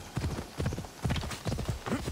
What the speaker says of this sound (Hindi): साला पागल घोड़ा